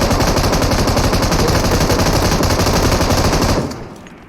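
Sustained, loud burst of automatic machine gun fire in a video game battle among houses, continuous rapid shots for about three and a half seconds before cutting off.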